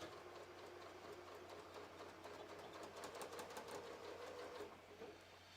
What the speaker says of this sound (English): I am just going to sew from here and I'm going to back tack.